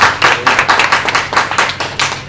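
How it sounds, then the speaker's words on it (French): Clapping at an evening Fail Night presentation event in Strasbourg, a fairly close, loud run of rhythmic hand claps in regular bursts, sounding like a small group rather than a large crowd, with no voices over it. "Merci, vous pouvez applaudir."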